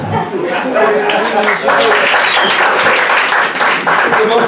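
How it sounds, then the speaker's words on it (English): Applause from an audience at a stand-up comedy show, dense clapping mixed with chuckles and crowd chatter, loud and continuous throughout. "This is the most applause breaks I've gotten in my entire life of doing stand-up."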